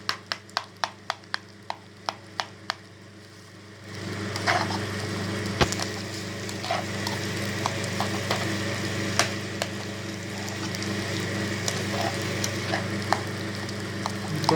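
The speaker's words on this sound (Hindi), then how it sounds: "अभी फ्राई करेंगे 5 मिनट और लगेगा तकरीबन।" Eggs and potatoes fry in a pan for a village-style dish. A run of sharp, evenly spaced taps comes first, then a loud, steady sizzle with occasional stirring scrapes fills the rest, close up and without speech.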